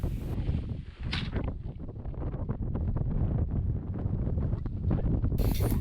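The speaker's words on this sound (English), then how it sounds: "It was dusty and windy," Steady wind gusting across a dusty lakeside campsite beside a Jeep, roaring continuously into the microphone with buffeting low rumble throughout.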